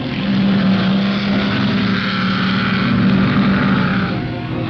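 A 1961 Cooper Maserati Formula 1 car at the Ardmore Circuit New Zealand Grand Prix, its racing engine droning loud and steady in a sustained buzzing roar from a vintage recording, with no voices.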